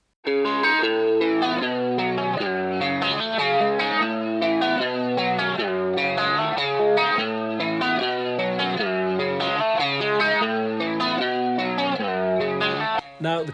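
An overdriven electric guitar plays a steady riff alone from a song, its tone gritty and nasal with a chorused, doubled shimmer, panned hard right, loud and continuous.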